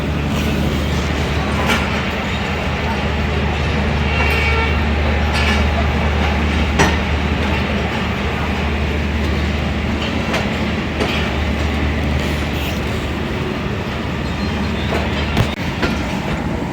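A train departs Rawalpindi railway station at platform 3, heard from on board as a loud, constant rumble with low engine drone and occasional clicks and rattles.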